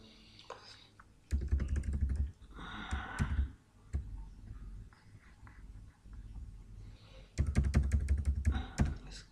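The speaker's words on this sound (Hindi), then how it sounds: "मैं टाइप करता हूँ।" Quick bursts of clattering keystrokes on a computer keyboard, recorded close, come in several separate runs with pauses between them, and a faint voice murmurs briefly in the background.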